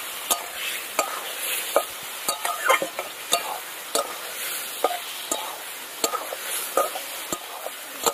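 A spatula knocks and scrapes rhythmically against a pan while spice paste and potatoes sauté with a little water, giving sharp repeated clacks over a bright, steady sizzle, close and loud.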